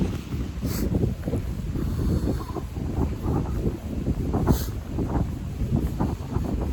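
Strong, cold wind by the Ganga in early morning buffets the microphone with a steady roaring rush and gusting low-frequency rumble, continuous and close, with no speech.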